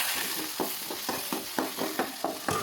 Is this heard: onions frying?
yes